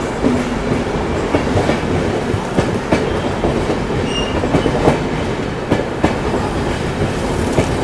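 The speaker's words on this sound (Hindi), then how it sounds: "जी हाँ, ये गरीब रथ है।" Garib Rath express train on the Bandra–Hazrat Nizamuddin route running on rails, a steady loud rumble with rhythmic clickety-clack wheel beats and occasional sharp clanks, heard close and without talk.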